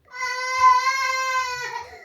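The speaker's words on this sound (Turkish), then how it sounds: "İçeri git dedim diye bas bas bağırıyor, duydunuz mu?" A 13-month-old toddler cries and shouts in one sustained, loud, high-pitched wail lasting about two seconds, close up and alone.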